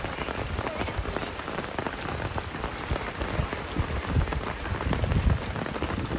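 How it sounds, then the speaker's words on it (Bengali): Light rain falls steadily outdoors, a dense, even patter of drops on surfaces that holds at the same moderate level throughout with no voices. "বৃষ্টি বন্ধ হয়ে গিয়েছে, আস্তে আস্তে পড়ছে"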